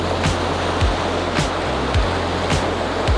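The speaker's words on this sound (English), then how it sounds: "It's a really windy day today" Strong wind roars steadily over a loud, continuous wash of surf on a blustery seaside day, with low gusty rumble and periodic swells of breaking waves.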